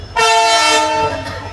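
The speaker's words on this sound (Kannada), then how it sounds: "ಟ್ರೈನ್ ಹೊರಟಿದೆ" A departing train's horn blares loud and close in one sustained harmonic blast of about a second, over the low rumble of the train.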